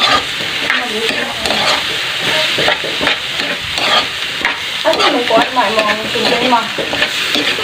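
Eggs with bitter gourd (ampalaya) stirred and frying in a pan, a steady loud sizzle broken by repeated scraping strokes of the utensil against the pan, close up with no talking.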